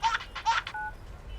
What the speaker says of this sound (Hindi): गुरु, घंटी बज रही है।